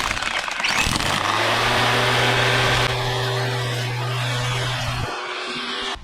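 An 8.5 amp electric grass trimmer running steadily, a loud continuous motor whine with a low steady hum, cutting off abruptly near the end; no talk.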